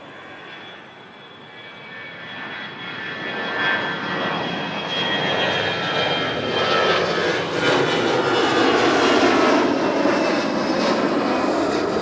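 An Airbus A320 jet takes off from runway 05 at Toronto Pearson airport, its engine roar building steadily from a moderate rumble to a loud, sustained full-power roar with a whining tone, continuous for twelve seconds.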